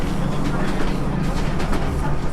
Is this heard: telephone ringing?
no